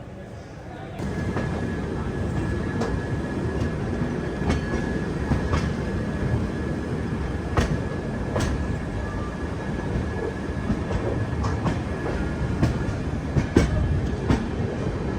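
The Millennium Superfast Express, running on ICF coaches, pulls away from a platform on its New Delhi to Tirupati run, a steady rumbling roll with rhythmic wheel clicks and a faint whine throughout.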